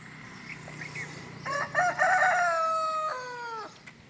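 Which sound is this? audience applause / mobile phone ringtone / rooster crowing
rooster crowing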